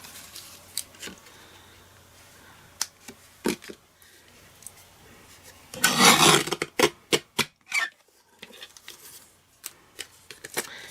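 Card being cut for a scalloped gift box, a series of short scraping strokes and clicks with a dense burst of rasping cuts in the middle, close and otherwise quiet.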